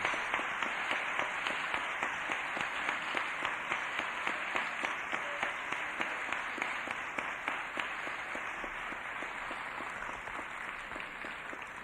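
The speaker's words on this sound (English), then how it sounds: "Can we have a round of applause for Nikki?" An audience at a reception for the poet Nikki Giovanni gives a steady round of applause that stays at an even level throughout, with no voices on top.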